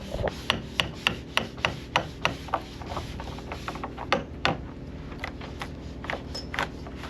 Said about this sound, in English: While I continue getting the rotten core out of the sugar scoops, Rolf continues putting fairing compound on